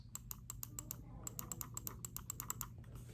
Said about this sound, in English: on the side you get the side buttons, and they sound like this.